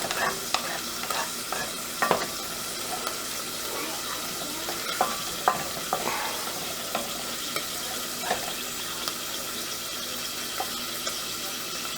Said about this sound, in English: Hopefully you can hear the mushrooms sizzling.